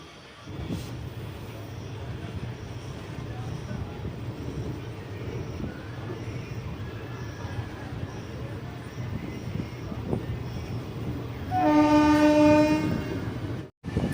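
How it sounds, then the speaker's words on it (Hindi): Mailani–Pilibhit passenger train rumbling along steadily with faint clatter, then a loud, sustained horn blast near the end; a voice talks over the running train. "ट्रेन चल चुकी है लगभग"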